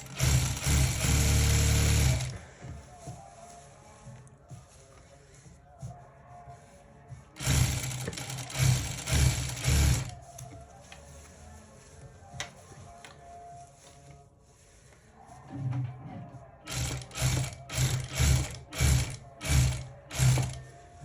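A sewing machine stitches the hem of a kameez in three separate rhythmic bursts of rapid mechanical chatter, with quiet fabric handling and faint clicks between runs.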